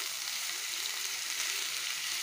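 Sliced onions fry in a spoonful of oil in a kadai, a steady, even sizzle and crackle heard close and alone.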